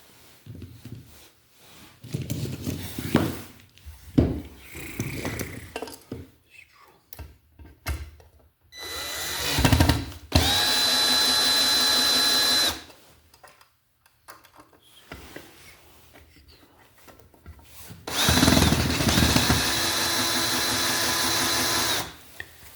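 A power drill drives screws into a Wiremold outlet box in two sustained whirring bursts, each lasting a few seconds, separated by shorter handling clicks and knocks nearby.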